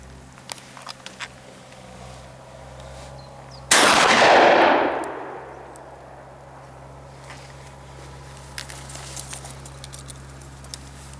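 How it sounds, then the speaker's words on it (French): A single sharp rifle shot rings out loud and close during outdoor sighting-in practice, with a long rolling decay into quiet ambient background. "Je vais tirer, Bernard."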